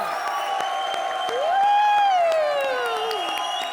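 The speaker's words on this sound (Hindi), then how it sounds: "जोरदार तालियां श्वेता, रहमान और अनूप के लिए" Applause and cheering from a comedy show studio audience, steady clapping with a crowd swelling louder midway, while a long sustained whoop-like tone rises and falls over it.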